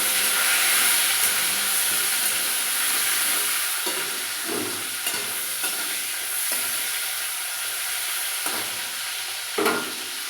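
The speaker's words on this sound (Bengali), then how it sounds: "একটু মশলাটাকে ভেজে নেব" Spices and green chillies fry in a pan with chopped tomato while being stirred, a steady hiss and sizzle broken by occasional scraping strokes, close up, with no voices.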